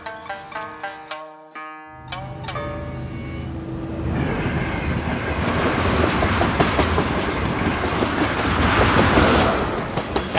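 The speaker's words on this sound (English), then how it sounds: "When the train passed on the day, it was a little bit grating" Layered library recording of a train passing: a few ringing bell-like chimes lead into a rising rumble and dense clickety-clack of wheels over rails that builds loudly and holds, with no voices.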